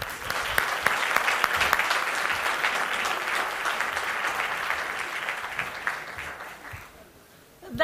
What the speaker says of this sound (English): two thumbs up and a round of applause for everybody here tonight.